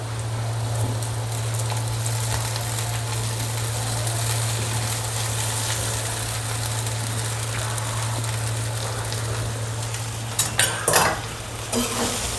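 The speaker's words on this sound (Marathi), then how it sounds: "आता मी पोहे टाकते" Poha goes into a pan for kanda pohe and is stir-fried, a steady sizzling hiss running under a constant low hum, with a few louder scraping stirs near the end.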